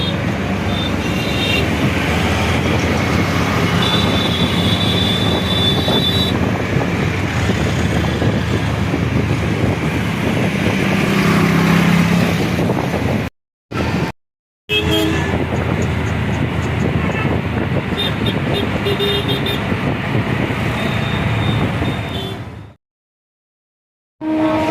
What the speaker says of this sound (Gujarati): આ છે સાબરમતી રેલવે સ્ટેશન.